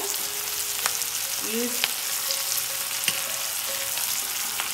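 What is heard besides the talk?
onion and masalas frying in a pan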